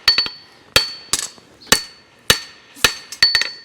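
A farrier's hammer strikes a horseshoe on an anvil while shaping it, a run of sharp, ringing metallic blows at an uneven pace with short pauses, close and loud.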